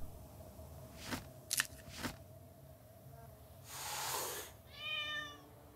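A cat meows in the horror adventure game Fear For Sale: Hidden in the Darkness, one drawn-out meow near the end after a few sharp clicks and a breathy swell, quiet overall.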